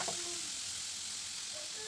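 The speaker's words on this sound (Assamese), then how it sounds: "এতিয়া মই সেয়া টেঙেচি শাকৰ সিজোৱা পানীখিনি ঢালি দিম" Boiled tengesi leaf water poured into a hot pan with salt and turmeric for a fish curry sets off a brief, steady sizzling hiss, close and fairly quiet, with no talk.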